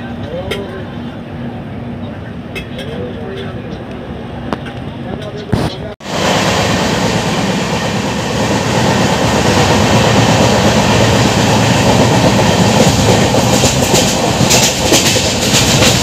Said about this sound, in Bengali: হাওড়া স্টেশন থেকে 38 কিলোমিটার কভার করে আমাদের ট্রেন এসে পৌঁছালো ব্যান্ডেল জংশনে